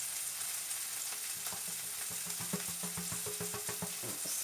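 A spoon stirs a yogurt soup mixture with flour in a pot, giving soft scraping and clinking strokes in a steady rhythm over a constant background hiss, close by and with no talking.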